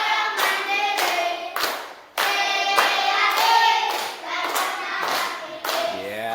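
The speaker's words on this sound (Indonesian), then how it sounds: "Tepuk tangan untuk semuanya" Classroom of children clapping together in a burst of applause, loud and close, with a brief dip midway before the clapping picks up again.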